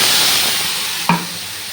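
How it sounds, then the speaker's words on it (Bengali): Ground paste of cumin, ginger, garlic, onion and green chilli added to potatoes frying in a little oil, with a loud, close sizzle that slowly eases and a single clunk near the end. "বেটে রাখা মশলাটা দিয়ে দিলাম"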